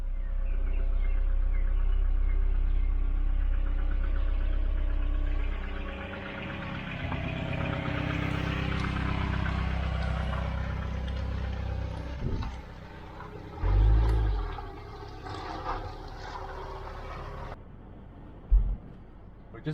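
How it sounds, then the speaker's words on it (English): A Volvo 940 Turbo engine runs just after a head gasket install, idling with a steady, noisy mechanical clatter and rumble up close, later easing slightly with a few thumps and knocks near the end. "Noisy shit engine. It was doing that noise before, so I don't know what it is."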